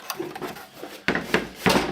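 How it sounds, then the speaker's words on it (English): A small plastic flap door on a Commodore 1541 disk drive is handled, giving a few quiet clicks followed by several sharper close knocks and snaps. "this is the one with the little flappy door."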